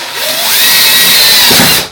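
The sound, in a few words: power drill drilling into a wall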